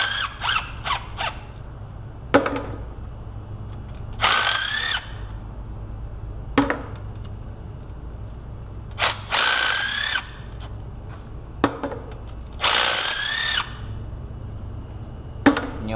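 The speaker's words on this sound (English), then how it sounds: "just pulling the bolts one at a time." Transmission pan bolts being removed one at a time on a Pontiac G6: repeated short bursts of a whirring power tool, several zips separated by pauses, close over a low background hum.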